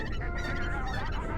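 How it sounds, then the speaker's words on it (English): A duck in Zelda: Twilight Princess gives a loud, close, continuous nasal honking gabble, filling the short moment with no talk over it. "it's the duck thing again"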